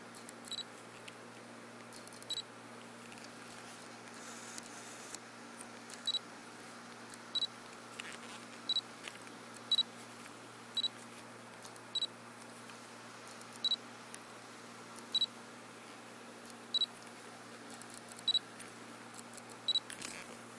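A Nikon 35mm f/1.8G AF-S lens autofocuses in a quiet room, giving a series of faint, short clicks at roughly regular intervals over a low steady hiss.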